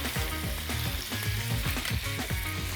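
Chicken fillets sauté in hot olive oil in a frying pan, giving a loud, dense, continuous sizzle with rhythmic stirring scrapes and no talking.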